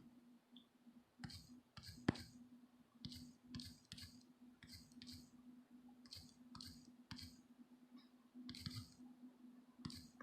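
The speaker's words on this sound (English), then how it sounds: "Sorry about my typing." Typing on a keyboard while searching in an Android app, a quiet, irregular run of light clicking taps in small clusters over a low hum.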